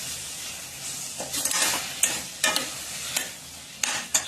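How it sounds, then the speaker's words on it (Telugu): Sugar mixture being stirred in a pan on a stove, a spoon scraping and clinking against the pan in irregular strokes with a soft background hiss, close and alone. "ఈ 2 కంటిన్యూగా మిక్స్ చేయాలి స్టవ్ మీద పెట్టి"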